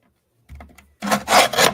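Card stock being cut diagonally from corner to corner for a handmade card, heard as a low scrape and then three loud, close rasping strokes in quick succession, with no one speaking.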